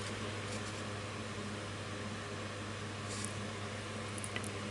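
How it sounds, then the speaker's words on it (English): An electric fan hums steadily in a warm room, a constant low drone with broadband airy noise running unchanged for the whole stretch, with no voices over it. "I'm sorry if you can hear the hum in the background of the fan."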